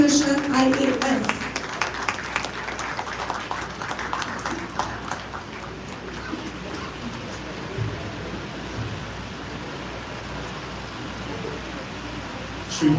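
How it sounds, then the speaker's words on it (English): Audience applause welcoming a dignitary at an office inauguration in India, dense clapping strongest at the start, then thinning into a softer wash of claps that fades to a low murmur. "please welcome with a massive round of applause"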